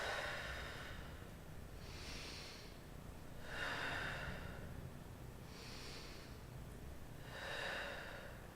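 Slow, steady breaths exhaled during an ab workout, four soft airy puffs spaced a couple of seconds apart, faint and close against a quiet background.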